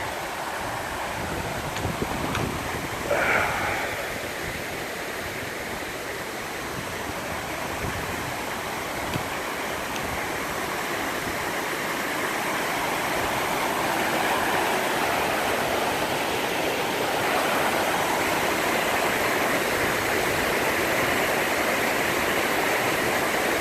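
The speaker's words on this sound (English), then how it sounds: "a nice little waterfall here" A steady rushing roar of a small waterfall in Frontenac Provincial Park in April fills the scene continuously, broad and close, growing slightly fuller toward the end.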